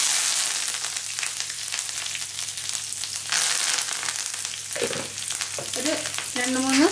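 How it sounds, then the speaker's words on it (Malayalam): Curry leaves hit hot oil with fried cauliflower for chilli gobi dry, giving a loud, continuous sizzle with crackling bursts and a few clinks of a stirring utensil toward the end. "ഇനി നമുക്കിതിലേക്ക് കുറച്ച് കറിവേപ്പില ഇട്ട് കൊടുക്കാ"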